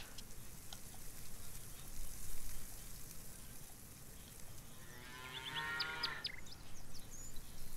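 Cattle in the video game Farmers Dynasty moo in a drawn-out, tonal call near the end, over steady rain-like background noise.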